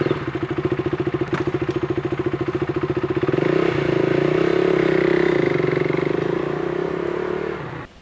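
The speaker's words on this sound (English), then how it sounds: "the first thing to do is to start up your bike using the starter switch" A motorcycle engine fires up close by, starting with a steady chugging pulse before settling into a loud, rough idle that holds and then cuts off sharply at the end.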